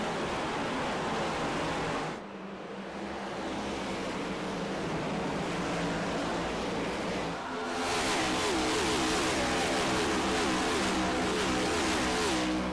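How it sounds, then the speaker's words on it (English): Gen 7 Cup Series stock cars racing at Richmond, a loud engine roar that dips briefly and then swells back as the cars pass close by. "whatever you think of this Gen 7 car, does sound pretty darn great"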